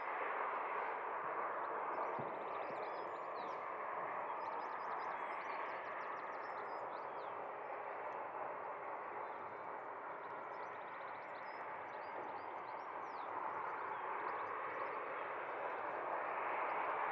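Jet2 jet aircraft on its long take-off roll at Leeds Bradford Airport, a faint, steady distant rumbling roar that barely changes over the stretch; no talk.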